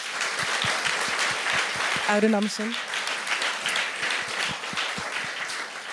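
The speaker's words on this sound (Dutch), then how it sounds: "Een applaus" Audience applause fills the room after a talk at a Dutch panel event on Friedrich Hayek and neoliberalism, steady and dense throughout, with a voice briefly speaking over it.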